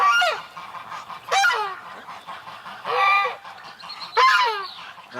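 Canada geese in a yard give loud, nasal honks in several separate calls, some single and some in quick doubled bursts, fairly close and clear against a quiet background.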